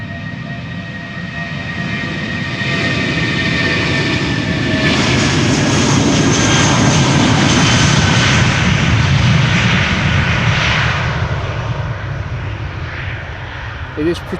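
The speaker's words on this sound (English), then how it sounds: "SAS going to Oslo again. OSL Airport A319." An SAS Airbus A319 in Star Alliance livery takes off from Amsterdam Schiphol bound for Oslo, its jet engines building to a loud, broad roar that peaks mid-clip and then slowly fades, with no speech.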